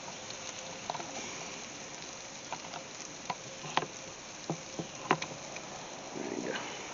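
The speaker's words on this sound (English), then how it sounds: "Just the sound of cooking in that cast iron, I like." Steak and garlic cook in a cast iron pan, giving a faint, steady sizzle with scattered pops and crackles and no talking.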